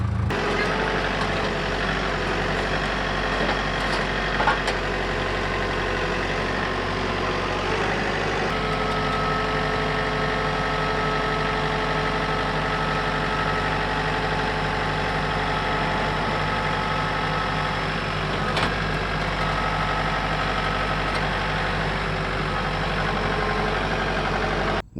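A tractor's diesel engine idles steadily and close by, a low continuous rumble with an even throb that barely changes throughout.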